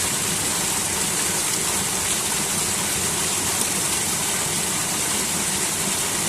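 The Bishnudwar waterfall makes a close, loud, unbroken roaring rush of falling water with no voices.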